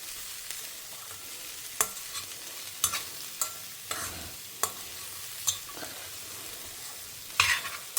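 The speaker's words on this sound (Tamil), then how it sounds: "தேங்காய் போட்டு ரொம்ப நேரம் வதக்க வேண்டாம்" Vegetables with grated coconut sautéed in a pan, a spatula scraping and stirring in scattered sharp strokes over a faint, steady sizzle, with no talk.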